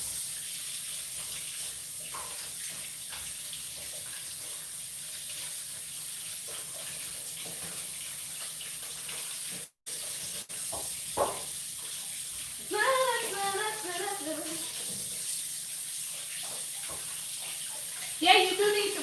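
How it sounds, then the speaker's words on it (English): A kitchen tap runs steadily with cool water while food is washed, a continuous rushing hiss that carries on throughout, with brief voices speaking over it near the end. "Make sure y'all are washing these off in cool water too."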